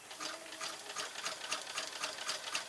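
A sewing machine runs a zigzag stitch over elastic thread, giving a steady rapid rhythmic whirring chatter of needle strokes, close and continuous, with no voices.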